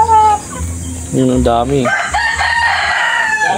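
A native Filipino rooster crows loudly up close among clucking native chickens on a small farm, with a person speaking briefly.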